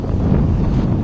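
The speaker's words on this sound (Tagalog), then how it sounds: "sobrang lakas na ng hangin at saka ang alon" Strong wind buffets the microphone aboard a boat out at sea in heavy waves, a loud close rumbling gust lasting about a second with no voices.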